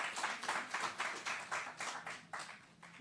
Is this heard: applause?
yes